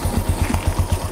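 A used Motor Maroc SH C90 Benelli motorcycle engine runs nearby with a steady, fast, throbbing beat, loud and alone.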